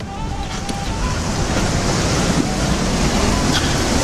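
Celtic Sea waves wash against the rugged Hook Peninsula coast by a lighthouse, a constant rushing surf roar mixed with gusty wind buffeting the microphone, with no clear voices.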